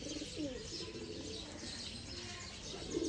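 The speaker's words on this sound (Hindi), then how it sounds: "और ये कबूतर है दोस्तों जो किसी सूरत में भी रात बाहर नहीं रहते, स्किप नहीं करते, सियालकोटी काले मुंह वाले दोस्तों कबूतर।" Sialkoti black-faced pigeons coo in low, soft warbling phrases close by, set against a steady background hiss and no speech.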